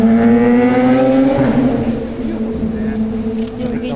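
A motorcycle engine drones with a rising then settling pitch, fairly close, while people talk over it.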